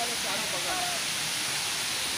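Moti Jharna waterfall at a temple site in Sahebganj, a steady broadband rush of falling water filling the whole clip at moderate level, with a faint voice briefly audible beneath it.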